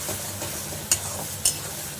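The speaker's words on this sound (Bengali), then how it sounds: "এরকম ভাজা ভাজা করে নিচ্ছি।" A spiced mixture with a little turmeric is fried and stirred in a pan for a chutney. A continuous soft sizzle is broken by two sharp metallic scrapes of the spoon against the pan, close and moderately loud with no voices.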